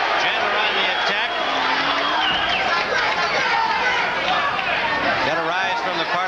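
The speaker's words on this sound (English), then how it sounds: "Got a rise from the partisan crowd." A partisan crowd at a professional boxing match in Philadelphia rises in loud, continuous cheering and roaring, a dense wall of noise filling the arena with a ringside commentator talking over it.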